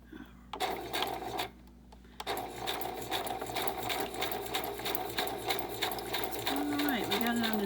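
A sewing machine runs a zigzag stitch at a rapid, even rhythmic clatter, close and steady throughout, with a brief pause early on and a voice speaking over the running machine.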